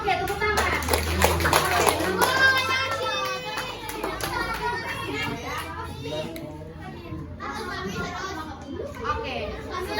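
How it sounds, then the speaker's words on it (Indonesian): Classroom children clapping together amid lively chatter and kids' voices, with steady hand claps and excited talking filling the room throughout. "Oke, tepuk tangan."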